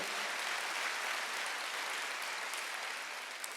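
A Korean church congregation applauds during a Sunday worship service, a steady, even wash of clapping heard at moderate distance and fairly low volume.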